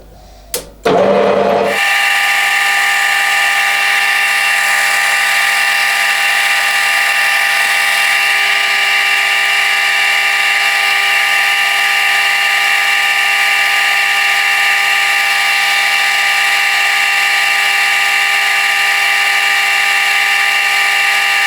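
A steady, loud power drill whine as a 3.1mm bit drills a hole in a hot air engine's drive axle support, running continuously after a brief start, constant pitch for about twenty seconds, no talking.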